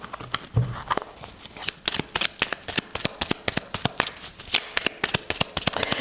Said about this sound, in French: Allez, on va tirer quelques cartes encore.